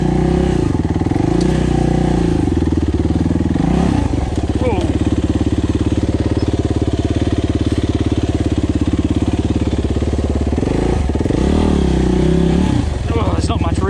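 A Suzuki RMX450Z enduro motorcycle labours along a flooded riverbank, its engine droning loud and close the whole time, rising and falling as the throttle works through rough going.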